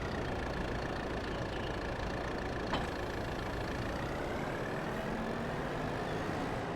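A tractor engine idles at a steady, low rumble with a mulcher attached in the farming video game Farming Simulator 22, a constant mechanical drone with a faint whine and one brief click.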